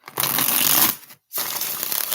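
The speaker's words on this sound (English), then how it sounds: "Two more shuffles." Two rapid riffle shuffles of a card deck, each a dense fluttering burst about a second long, separated by a brief silence, close up.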